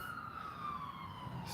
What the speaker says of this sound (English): I thought I heard a siren.